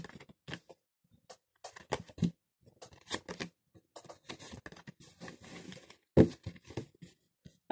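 Tarot cards spread out across a table, a series of short papery slides and taps coming in irregular bursts with quiet gaps, close and fairly soft.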